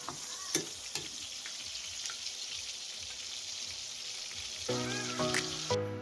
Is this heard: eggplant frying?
yes